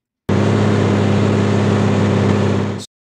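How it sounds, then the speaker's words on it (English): A car engine sound effect in Nuendo plays as a loud, steady, low droning hum with a constant tone, starting and stopping abruptly after about two and a half seconds. "the car engine sound."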